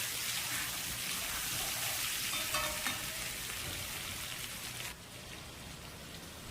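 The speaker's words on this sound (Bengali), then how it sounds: "শামুক রান্না করার জন্য এখানে আমি আলুটাকে ভালো করে ভেজে নিচ্ছি।" Potatoes frying in a pan for a Bengali snail curry give a steady, dense sizzle like rain spattering on a surface, holding even and close throughout with no voices.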